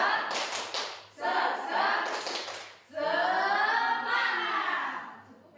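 A group of adults at an Indonesian training session doing a rhythmic cheer clap, quick claps in bursts mixed with chanted group voices, fairly close and moderately loud.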